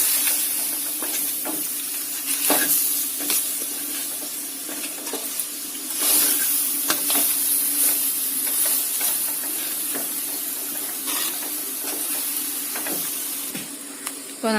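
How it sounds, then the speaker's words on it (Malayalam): Crab coated in masala stirred in a frying pan for a Kerala-style crab curry, a steady sizzle with scraping strokes of the spoon running throughout, close and fairly loud, with no talking. "ഇത്രയും കൂടി ചേർത്തിട്ട് നന്നായിട്ട് മിക്സ് ചെയ്ത് കൊടുക്കുക."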